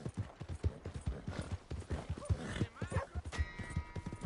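Horse hooves clip-clop in a rapid, regular gait in the Red Dead Redemption 2 video game, close and prominent, with brief vocal sounds and a whinny-like tone mixed in.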